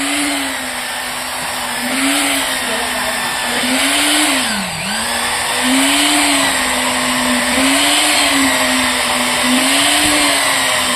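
An electric vibrator compacts wet sand fill against a thin brick wall at a building site, droning loud and continuous with a steady motor hum that wavers slightly in pitch throughout.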